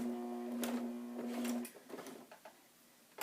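Sewing machine stitching a slow curved seam through fabric, a close mechanical whir with a steady tone in short bursts, then stopping, followed by faint handling clicks and rustles.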